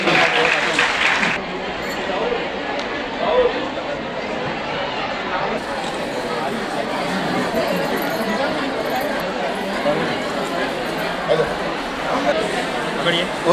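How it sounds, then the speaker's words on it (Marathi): Applause and crowd chatter at a birthday function for a local party figure, a broad wash of clapping that continues steadily throughout with voices mixed in. "एकदा जोरदार टाळ्या झाल्या पाहिजे"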